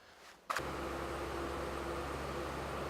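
A Dodge Ram truck engine idles in sub-zero cold, a steady low rumble that kicks in abruptly after a brief quiet moment and holds constant with a broad hiss over it.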